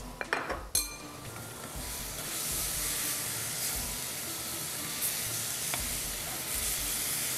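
Peaches sizzle in a pan with a tablespoon of dried coconut stirred in, opening with a few clinks and scrapes of a utensil against the pan, then a steady, close frying hiss.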